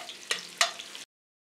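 Onions sizzling and frying in a pan as the base for chicken gravy, a close, crackling hiss with two sharp bursts of stirring, ending abruptly.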